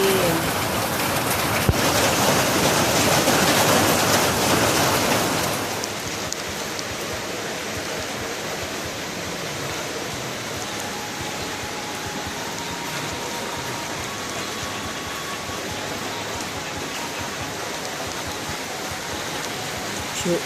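Heavy rain pours down during a tropical depression storm. The steady, dense downpour is loudest over the first five seconds, then settles into an even, constant hiss of rain.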